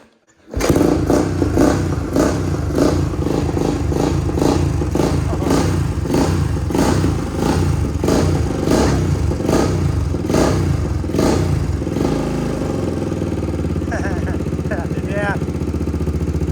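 An abandoned Honda dirt bike, unused for 15 years, bursts into life and runs loudly with a rough, pulsing engine note, then drops to a lower, steadier idle near the end.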